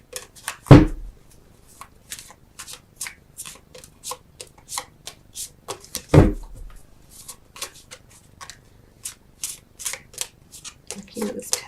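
Tarot cards are shuffled and drawn by hand, giving light papery flicks and riffles in irregular clusters, with two louder slaps where cards are laid down, under a speaking voice.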